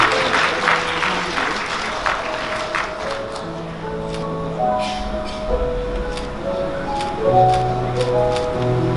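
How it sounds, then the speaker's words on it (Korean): Wedding guests at a convention hall ceremony clap steadily after the bride places the ring, a dense continuous round of applause with some distinct nearby claps standing out, over soft background music. "다시 한번 따뜻한 박수 부탁드리겠습니다."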